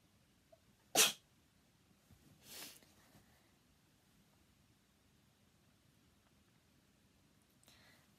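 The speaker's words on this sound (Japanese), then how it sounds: "くしゃみでそう。" A single sharp sneeze from a woman at a close microphone, then a softer breathy sniff or snort a moment later and a faint rustle near the end, over a quiet background.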